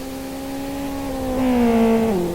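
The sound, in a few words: race cars driving on warm-up lap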